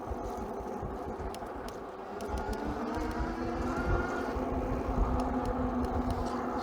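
Engwe Engine Pro 750w folding full-suspension fat tyre e-bike on the move, giving a steady rumbling road and wind noise that swells slightly as it speeds up, with no talk.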